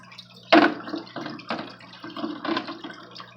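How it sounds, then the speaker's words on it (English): Water pours and splashes into the sump tank of a home aquaponics system, a soft, uneven trickling with a few louder spills, heard alone and close. "So the water comes in here."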